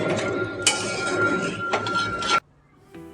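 A metal lid set over a pot of simmering spinach chicken on the stove gives a clanking scrape and a rattle, then lands with a sharp clunk that cuts to near silence.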